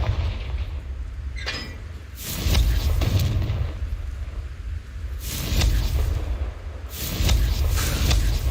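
Fiery blasts from the Confringo spell in Hogwarts Legacy, several loud booming explosions with rumbling tails separated by short pauses.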